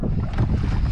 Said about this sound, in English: The wind just goes through it. Man, it's windy.